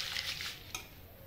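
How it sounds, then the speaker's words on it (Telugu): Red chillies and urad dal fry in a pan with a soft, steady sizzle, and a brief utensil scrape cuts in partway through. "చూడండి, మిరపకాయ వేగినాయి."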